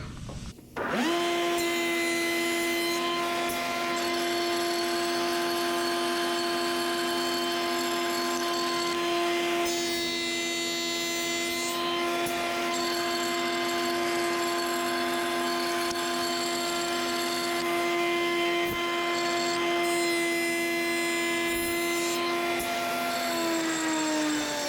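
A power saw runs continuously while trimming short wooden rails for stile and rail doors, taking a sixteenth of an inch per cut, with a steady loud whine and brief changes in pitch as each pass bites into the wood.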